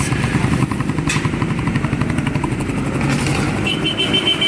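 A motorcycle engine runs nearby with a steady, slightly rough putter and occasional clattery ticks, with no talking; the engine clatters when cold and quiets once warm.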